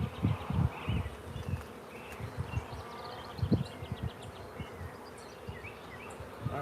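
Honeybees buzz around an open hive during an inspection on a farm, a busy, agitated drone with loud close passes and bumps against the mic over a constant background hum.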